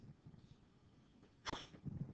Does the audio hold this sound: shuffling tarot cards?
no